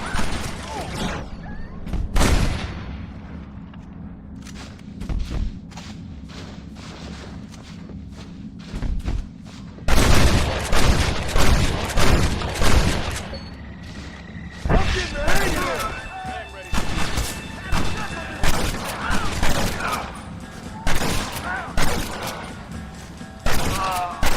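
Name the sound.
gunfire in the video game Red Dead Redemption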